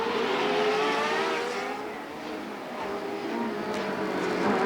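Race cars at the 1990 Marlboro Grand Prix roar steadily close by, a continuous loud engine drone that dips briefly and swells again, with no talk over it.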